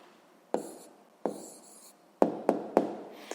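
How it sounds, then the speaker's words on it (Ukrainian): Pen or pencil writing an answer by hand on paper during a sixth-grade maths lesson on equations: several short scratchy strokes and taps, close and fairly quiet, with no talking. "Записуємо відповідь."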